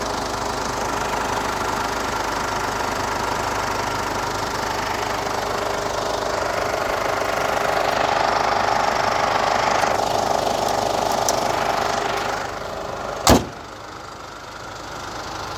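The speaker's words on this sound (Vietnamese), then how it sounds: "Máy nổ êm, khô ráo sạch sẽ." A 2008 Ford Everest with a 2.5-litre diesel engine and automatic transmission idles with a smooth, steady, close drone and a faint knocking texture, with a brief sharp click near the end and no talk.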